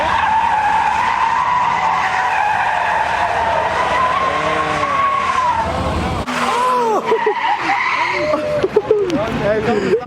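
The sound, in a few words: Ford Mustang skidding, tires squealing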